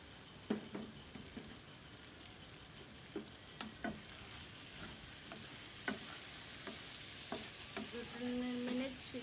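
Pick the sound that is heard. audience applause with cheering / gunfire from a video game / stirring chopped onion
stirring chopped onion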